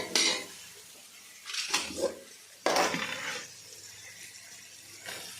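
Metal spoon scraping and clinking against a pan while masala is stirred and roasted, a few sharp irregular clanks and scrapes with quiet pauses between, close by with no talking.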